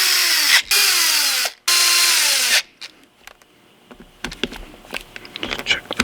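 A power driver running small Torx screws back into a Louisiana Grill, three loud whirring bursts with falling pitch, followed by quieter clicks, taps and handling noises as parts are fitted.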